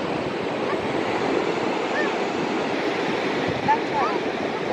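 Waves wash onto a beach in a continuous roar of surf, loud and close, with faint voices and wind in the background.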